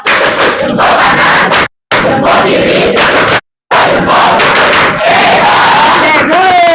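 A class of students in an Indonesian classroom shouts a loud rhythmic counting chant together with thumb-clapping, broken by two brief silences, energetic and close.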